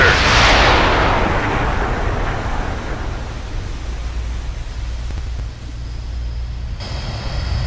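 A torpedo fires from a submarine tube in the naval game Cold Waters: a loud opening whoosh and rumble that fades into a steady low underwater drone with faint hiss, no voices heard.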